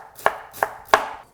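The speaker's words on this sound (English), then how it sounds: "The first thing I'm going to do is just start chopping all this up." A knife chopping fire cider ingredients on a kitchen cutting board, three crisp evenly spaced strokes close by with no talking.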